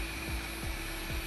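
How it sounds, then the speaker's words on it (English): A household vacuum cleaner runs steadily close by in a home, a constant broadband whine with a sustained high tone and a low hum. "Cut that vacuum cleaner off."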